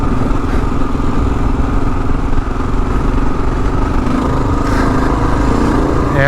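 A Kawasaki KLR dual-sport motorcycle rides on desert dirt roads, lugging in third or fourth gear, its engine throbbing loudly and steadily close up with slight swells in revs and wind buffeting throughout.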